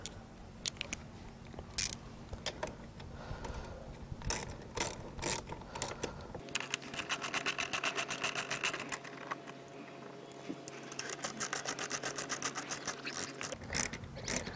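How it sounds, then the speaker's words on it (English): A hand ratchet with a 10mm socket loosening gas tank bolts on a Kawasaki KFX 450R quad, quiet steady clicking pawl strokes in a close, rapid rhythm with a few louder knocks from handling. "This is a 10mm socket that you will need to remove the bolts on the gas tank and on the side fairing, or the side fenders."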